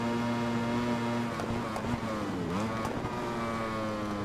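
A Panigale superbike at full throttle in RIDE 4 during a World Superbike League race, its engine screaming steadily with a brief dip and pitch swoop mid-run before climbing again, loud and close with no talking.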